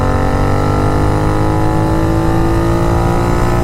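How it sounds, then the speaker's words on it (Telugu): A Royal Enfield GT 650 motorcycle fitted with a Venom exhaust revs loudly up close, its engine note held in a steady, throaty drone that climbs slightly throughout, with no voices. "బట్ బైక్ అయితే లౌడ్ ఉంది గైస్."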